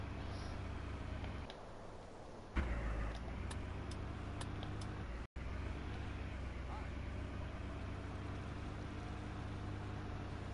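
Vehicle driving in a farming roleplay video game, a steady low engine drone running continuously under a person speaking, with a brief dropout midway.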